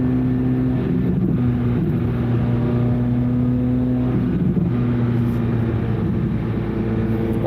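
A car engine drones steadily and loudly at low road speed, a constant throaty hum with slight pitch shifts as it revs, with no talking over it.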